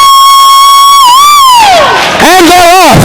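Roller derby crowd at a Cherry Bombs versus Rhinestones bout cheering loudly, a sustained rising and falling whoop of many voices dominating throughout, with a brief dip near the middle before the yelling swells again.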